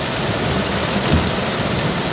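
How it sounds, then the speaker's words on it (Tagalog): Heavy rain pouring steadily in a downpour heavy enough to flood the area, a loud, dense hiss of water hitting surfaces with a low rumble underneath, continuous and close. "Ang lakas ng ulan. Hala, baha na dito."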